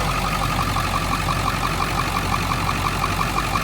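A 1975 Chrysler Imperial engine idles close up at an auction with an even, slightly pulsing rumble and a rhythmic ticking hum running steadily throughout.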